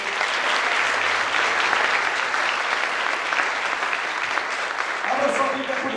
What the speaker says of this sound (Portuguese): Aplauda o teu Deus.